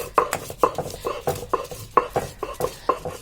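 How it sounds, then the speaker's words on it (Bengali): A stone pestle strikes and scrapes dried and boiled chillies on a flat stone slab (pata) in a steady rhythm of about two knocks a second, close by and moderately loud. "এখন এটাকে আমি ভালোভাবে বেটে নেব"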